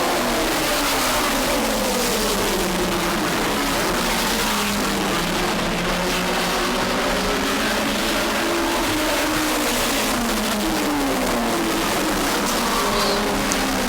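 Race cars roar around a big oval track, a dense continuous engine drone with rising and falling pitch as several cars pass, loud and steady without voices.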